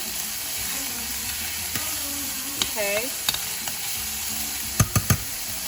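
Macaroni au gratin ingredients sizzle steadily in a hot pan, with scattered pops and a few sharp knocks of a utensil, as a voice briefly speaks.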